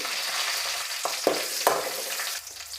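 Chillies and coriander seeds frying in hot oil give a steady, close sizzle, broken by a few sharp crackles and spits as spices hit the pan, then settling slightly quieter near the end.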